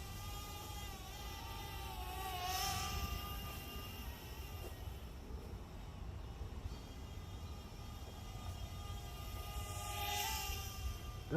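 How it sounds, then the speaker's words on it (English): A small Syma X20 quadcopter drone hovers with faulty propellers, giving a steady, high whirring whine with a wavering pitch that swells twice. It sounds moderately close against a constant background hum. "Does sound like something's up with the props though."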